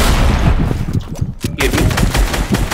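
Rapid gunfire in the Fortnite video game during a 2v2 box fight, with dense overlapping shots and automatic bursts running almost continuously, briefly dipping near the middle before resuming loud and busy.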